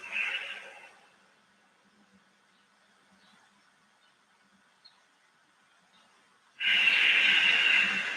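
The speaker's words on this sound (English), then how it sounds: "with that increased pressure, you hear the breath" Yoga breathing with the throat constricted: one loud, rushing breath at the start and another at the end, with near-silence between them.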